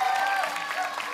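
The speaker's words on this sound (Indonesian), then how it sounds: "Sekali lagi dong tepuk tangannya sahabat aksi." A studio audience at an Indonesian junior Quran recital TV competition claps, a brief moderate burst of applause with faint voices and a tonal hum beneath.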